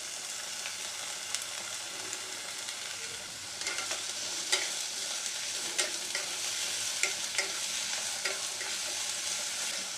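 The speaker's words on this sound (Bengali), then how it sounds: "দু চারবার নেড়ে নিয়েছি" Cauliflower, potato, carrot and beans being stirred while frying in a pan for vegetable Maggi noodles, a steady close sizzle broken by light scraping and tapping of the spoon, no talking.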